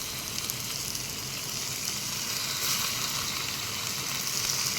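Chicken pieces frying in hot oil give a steady, dense sizzle that holds level throughout, loud and close with no voices over it.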